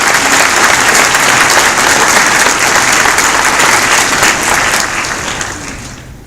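Sustained audience applause at an award ceremony honoring a group of school educators, dense and steady clapping that fills the room before fading out over the last second.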